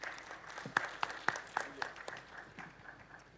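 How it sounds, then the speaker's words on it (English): A small audience gives a round of applause at a tropical seaweed conference: a short run of scattered, fairly faint claps that thins out and fades within a few seconds, with no talk. "Let's give him a round of applause"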